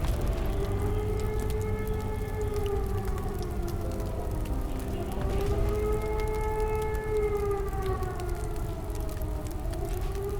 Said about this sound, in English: the air raid sirens are blasting into the street